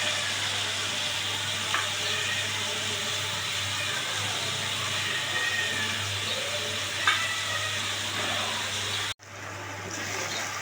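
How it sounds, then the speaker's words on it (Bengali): Tomato and onion, both thinly sliced, sizzle steadily in a pan, a constant low frying crackle with faint occasional clinks, cut off briefly near the end before resuming. "এটা ভাজা হোক"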